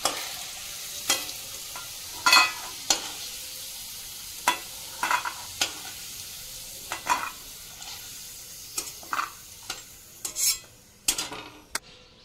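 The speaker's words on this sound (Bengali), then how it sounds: "এখন ফোড়নে দিব একটা শুকনা লঙ্কা, 2 টুকরো দারচিনি, 2টো এলাচ" Dried red chilli, cinnamon and cardamom sizzle steadily in hot oil while a utensil scrapes and taps the pan in irregular bursts, close and clear with no talking.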